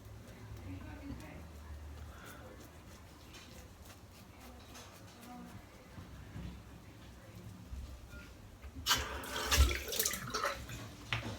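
Tap water running steadily into a sink as shaving soap is rinsed off, a low continuous flow that swells into louder, closer splashing and gurgling toward the end.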